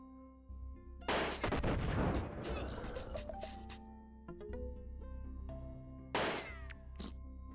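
Gunfire from a mobile iOS mini-game, with bursts of synthetic shots and crackling blasts over game tones and musical notes. The loudest bursts come early and again near the end.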